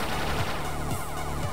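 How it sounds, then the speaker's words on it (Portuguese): Three gunshot bursts from enemies in a Brazilian video game crack out at a steady interval, loud and close against a busy game soundtrack. "eles dão 3 tiros e vambora,"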